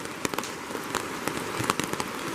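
Heavy rain pours down steadily by the Cispus river in October, a dense, continuous hiss with scattered sharper pattering drops close by, and no voices.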